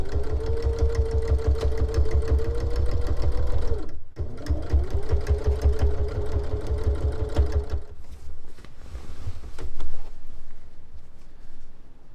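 Sewing machine running a backstitched X pattern to secure a high-stress spot, a close, steady rapid needle chatter that pauses briefly near the four-second mark, then resumes before fading into quieter mechanical clatter.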